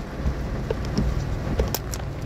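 Heavy rain pouring steadily during a daytime storm in rural Thailand, with water rushing across fields and onto the road: a dense, continuous hiss with a few brief sharper spatters, and no talk.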